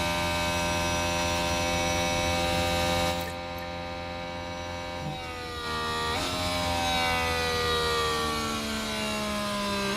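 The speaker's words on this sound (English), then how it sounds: "So you can hear a little bit of lifting and coasting going into that corner there." Formula 1 car in F1 Manager 2026 lifting off and coasting into a corner at Great Britain, a steady loud engine drone with many harmonics that dips in pitch and volume midway, then swells back up.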